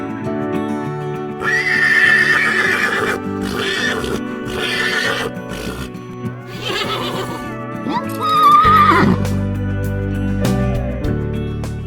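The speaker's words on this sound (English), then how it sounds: "horse." A horse whinnies loudly in two long, shaky neighs, one early and one later, over a steady music bed, with faint hoof clip-clops between.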